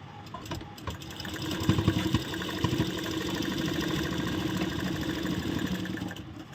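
Electric sewing machine stitching the shoulder seam of a piped kurti, a steady mechanical hum running throughout at moderate level, swelling briefly near two seconds before settling into an even drone.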